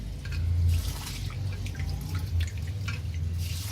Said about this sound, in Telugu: ముందుగా రైస్ని నీట్గా వాష్ చేసుకుందాం.